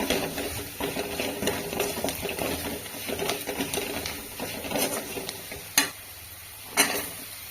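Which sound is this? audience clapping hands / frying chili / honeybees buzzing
frying chili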